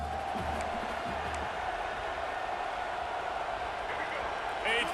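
A stadium crowd in the EA Sports College Football 26 video game, with a broad continuous roar and cheering at a steady level under a play-by-play commentator's voice.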